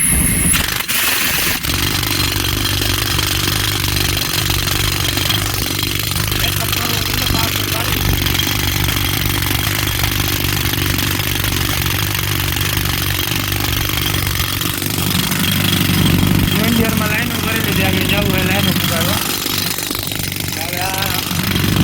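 A loud, steady tractor engine drones throughout, rough and mechanical like heavy machinery running close by on a farm, with voices talking over it.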